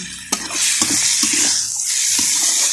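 Long beans stir-fried in red curry paste, giving a steady loud sizzle with a few scraping stirs of the spatula against the pan and no talk.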